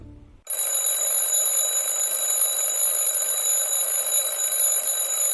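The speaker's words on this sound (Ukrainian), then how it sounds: "Це мій будильник." After a brief quiet moment, an alarm clock bursts into loud, continuous high-pitched ringing that keeps going without pause.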